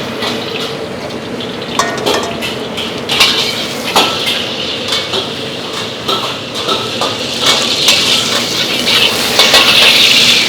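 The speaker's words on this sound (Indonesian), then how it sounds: "Bikin tumis buncis ya dengan teknik flambe biar wangi." Green beans are stir-fried and flambéed in a pan at a busy food stall. A loud, steady sizzle runs under scraping and clattering of a metal utensil against the pan, close up and continuous.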